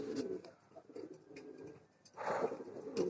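Pigeons coo in a low, throaty murmur that swells and fades, with a louder burst of cooing near the end, heard close by with no talk.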